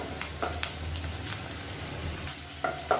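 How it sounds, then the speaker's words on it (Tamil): Onions sautéing in coconut oil for an egg and cabbage kootu give a soft, close crackling sizzle over a few seconds, broken by a handful of light clicks from the spoon. "வெங்காயம் ஓரளவுக்கு நல்லா ப்ரௌன் கலரில் வதங்கிடுச்சு"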